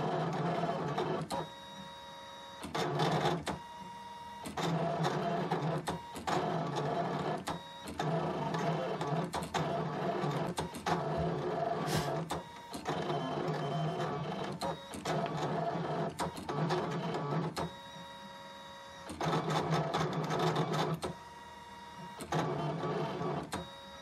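A Brother ScanNCut cutting machine cuts small holes, its motor buzzing and whirring in repeated short bursts separated by brief pauses, close and moderately loud, with no one talking.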